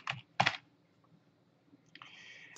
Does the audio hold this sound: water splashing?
no